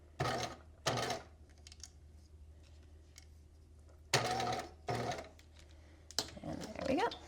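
Short, separate bursts of a sewing machine stitching fabric pieces of a Sphinx top together, close by over a quiet background, with light clicks and handling sounds in the gaps.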